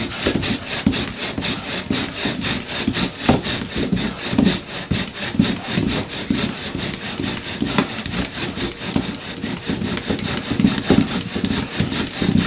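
A wooden bow drill spindle spins under heavy body-weight pressure, giving a rapid, rhythmic rasping saw-like friction sound with quick back-and-forth strokes, close and loud, no talking.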